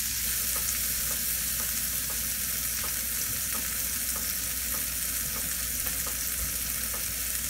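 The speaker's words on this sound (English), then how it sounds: "right here I am sauteing this up" Food sizzles steadily in a pan during a rustic omelette cook, with a constant broad frying hiss and faint regular ticking throughout, close and fairly loud with no voices.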